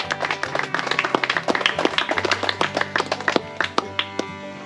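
A small audience claps for the winner at an outdoor float-tube pike and perch fishing contest, a burst of close, uneven hand claps that thins toward the end.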